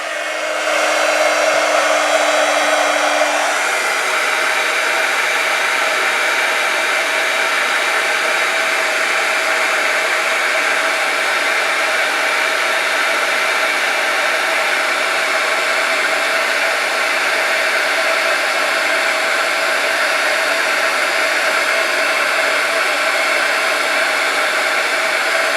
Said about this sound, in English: I'm going to take my heat gun, I'm going to heat it up for a second, and then melt all this powder